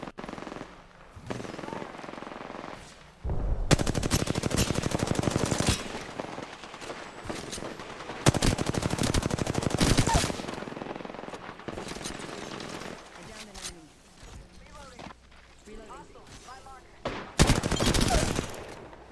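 Rapid automatic gunfire from a shooting video game, loud sustained bursts of several seconds separated by quieter gaps, with a final burst near the end.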